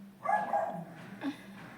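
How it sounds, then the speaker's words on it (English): A dog barks indoors, two close, loud barks spaced about a second apart, the first one drawn out, against a quiet room background. "why does this dog keep barking when I start speaking?"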